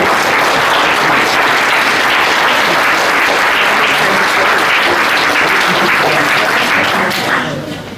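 Loud, sustained applause from a crowd at a mayor's 2024 New Year wishes ceremony, dense clapping that carries on evenly and eases slightly at the very end.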